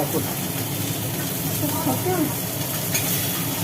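Rohu fish pieces frying in hot oil give a steady, close sizzle and crackle throughout, with a voice talking faintly over it.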